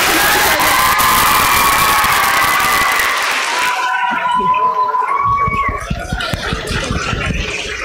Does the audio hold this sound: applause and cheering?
yes